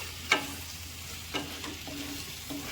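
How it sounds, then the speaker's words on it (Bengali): Chopped mutton fat frying with potatoes in a pan, a low steady sizzle broken by a few scraping stirs of a spatula, the first one the sharpest, with no voices. "এটা দিয়ে সুন্দর করে একটু নাড়িয়ে চাড়িয়ে নিয়ে"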